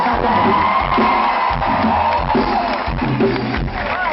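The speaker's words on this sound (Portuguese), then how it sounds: "gostaria que vocês dessem uma salva de palmas" A live audience at a Claudia Leitte show cheers and whoops loudly with a dense crowd roar throughout, and the noise stays at a constant level for the whole stretch.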